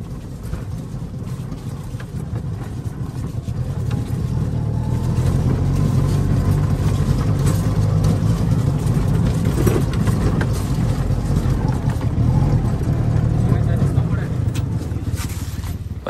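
An auto rickshaw engine runs steadily close by, a loud, continuous low rumble with a rattling edge that swells slightly after the first few seconds and holds.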